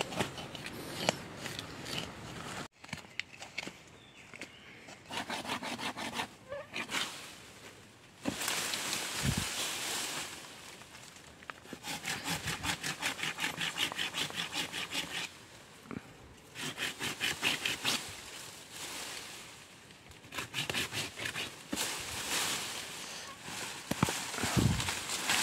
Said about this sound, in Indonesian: Kita dongkel dulu